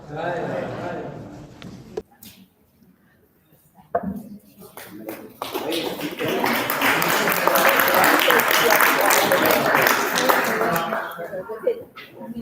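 After a few seconds of speech, a crowd at a Jewish gathering in Minneapolis, MN breaks into sustained clapping and cheering that swells and holds for several seconds before fading.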